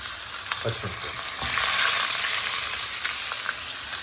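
Tomatoes, green chillies and a pinch of turmeric fry in a pan for a mint-coriander chutney, giving a loud, close, steady sizzle with a few stirring scrapes and no speech.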